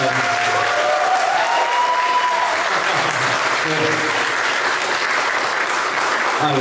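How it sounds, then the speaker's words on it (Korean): An audience at a community meeting in New York gives loud, continuous applause, a steady dense clapping that holds without letup throughout. "마치 서울 집회에서 인사할 때 박수 쳐주시는 것 같이 이렇게 쳐주시네요"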